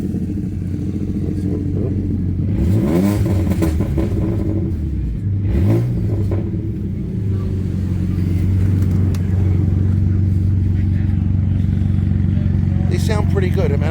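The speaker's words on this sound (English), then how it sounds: "let you listen to the exhaust sound" Exhaust of a 2009 BMW E90 335i with the N54 engine running an E50 tune on E85 fuel, a loud steady rumble with repeated revs climbing and falling, heard close up.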